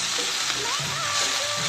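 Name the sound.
chivli leafy greens added to hot pan, sizzling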